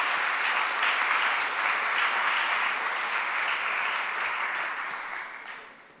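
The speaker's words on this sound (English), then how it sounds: "Can we please give them a big round of applause?" A literature festival audience claps steadily to welcome a panel. The dense, even applause holds strong for several seconds, then fades away near the end.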